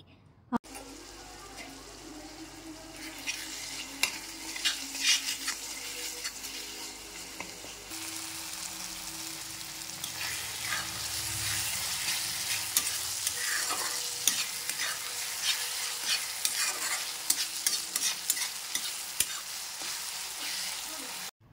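Ginger garlic paste fries in oil with softened tomato for chicken liver curry, making a continuous sizzle under frequent scraping stirs. Muffled speech and a faint splash of running water come and go.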